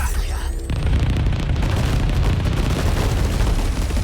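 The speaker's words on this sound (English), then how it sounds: "up here we got point lock missiles." Point-lock missiles in the 13 Sentinels: Aegis Rim video game detonate as a loud, dense barrage of overlapping booms and rumbling blasts, running continuously for the whole stretch.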